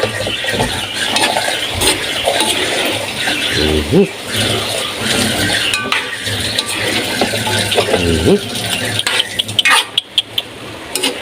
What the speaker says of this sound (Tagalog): Panguhuli na po natin yan talong po, no. Yan, haluin po uli natin.